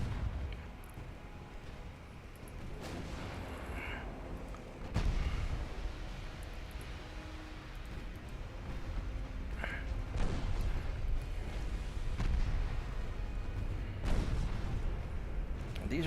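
Heavy warship naval guns firing in the video game Ultimate Admiral Dreadnoughts: deep, rumbling booms that recur every few seconds over a constant low battle drone, with no one talking.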